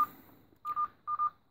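Keypad beeps on a Benefon Forte NMT brick mobile phone from Finland: a faint tone fades out, then two close pairs of short, loud, clean beeps sound near and alone.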